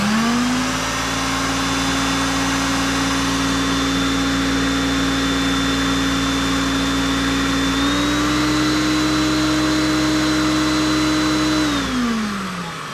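A Hoover Concept One upright vacuum cleaner runs steadily on carpet with a loud, close motor whine and airy rush, the pitch stepping up slightly partway through before the motor winds down at the end.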